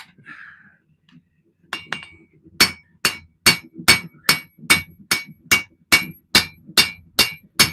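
A hand hammer swung with its rounding end beats hot metal in a home forging shop: after a few faint taps come about a dozen loud, evenly spaced ringing blows at a steady rhythm, close up.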